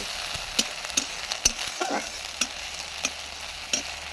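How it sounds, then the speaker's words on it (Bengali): Spice paste with salt and turmeric frying in a pan, a steady soft sizzle with periodic scrapes and taps of a stirring spoon. "এইভাবে আমি কষিয়ে নিচ্ছি মশলাটা"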